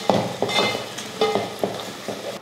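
Shallots, garlic and curry leaves sauté in hot oil, a crackling sizzle broken by repeated spoon stirs and scrapes against the pan, close and fairly loud.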